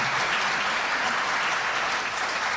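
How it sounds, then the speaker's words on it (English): A forum audience applauds library professionals with a brief, even burst of many hands clapping together, moderately loud and steady with no voices over it. "let's have a round of applause for our library professionals"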